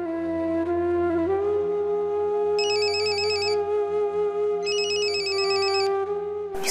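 An electronic telephone ringtone plays in a household scene from a Hindi television drama, a steady electronic tone with two bursts of bright warbling rings layered over it, loud and alone with no voices.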